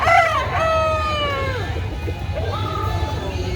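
A rooster crows once with a rising, wavering call, heard over a steady low background hum and crowd murmur, followed by a shorter second call, at a poultry market in Carbon, Cebu City.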